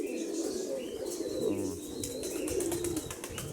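Mykolaiv pigeons coo in low, rolling calls close by, with faint chirps and light fluttering around them, and no talk.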